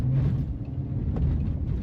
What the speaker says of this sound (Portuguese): Eu tô aqui meio que abusando um pouquinho na velocidade na estradinha de terra.